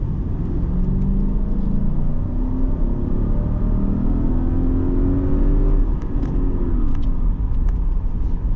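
A 2012 Lexus LS460L in sport mode accelerates with a smooth, loud rising engine drone heard from inside the cabin, climbing steadily in pitch before easing off near the end, with no talk.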